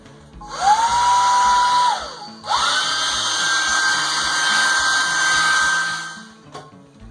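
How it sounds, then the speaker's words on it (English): A hair dryer whirs loudly nearby in two long runs, briefly cutting out and restarting at a higher pitch before winding down. "I'm probably going to attack it once more with a hairdryer"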